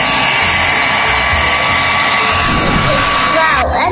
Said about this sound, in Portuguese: enquanto a Sara está colocando o secador